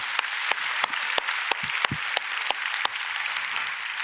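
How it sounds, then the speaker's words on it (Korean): A congregation at a Korean church's Sunday worship service applauds its missionaries with sharp, scattered claps that come at an uneven rhythm of roughly two or three per second over a soft background. "우리 선교사님들 위해서 격려의 박수 보내주십시오."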